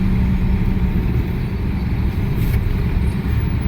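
A car engine runs at a steady low hum as a learner mother starts driving on a slope, with a continuous rumble and no talk.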